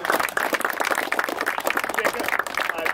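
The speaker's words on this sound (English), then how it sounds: "So a big round of applause." An audience at a car rally event gives dense applause, steady clapping heard up close for a few seconds with voices mixed underneath.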